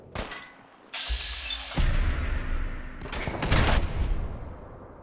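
Gunners open fire in Fallout 4, bursts of automatic gunfire and single shots cracking across about five seconds, with a heavy thud partway through, moderately distant and alone without talk.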